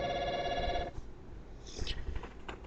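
A telephone rings in a quiet room, its bright harmonic tone holding steady for just under a second before cutting off, followed by soft faint rustling.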